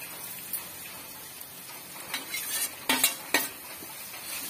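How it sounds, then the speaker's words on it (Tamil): Grated raw mango sautéing in masala in a pan for mango rice: soft sizzling under intermittent scraping and clinks of a spoon stirring against the pan, close by, a few sharper strokes toward the end, no talk. "சேர்த்துட்டு இதையுமே வந்து ஒரு 3 மினிட்ஸ்க்கு நல்லா வந்து வதக்கி விட்டுக்கலாம்."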